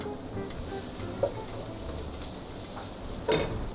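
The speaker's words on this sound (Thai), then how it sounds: "แล้วก็ซูกินี่หั่นเส้นแบบนี้" Julienned zucchini and garlic stir-frying in a pan give a steady, close sizzle with a couple of brief louder crackles and scrapes, no voices.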